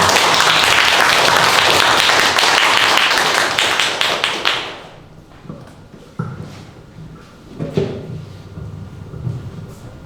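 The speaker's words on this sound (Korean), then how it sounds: "자, 큰 박수로 모시겠습니다." Audience at a book talk in a bookstore gives loud sustained applause to welcome two guests, then the clapping thins to a few scattered claps over room noise and light movement.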